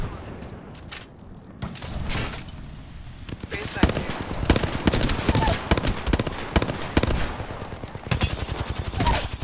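Gunfire rattles in the video game Apex Legends as rapid bursts of sharp shots, near and loud, with several volleys following one another. A player talks over the shooting.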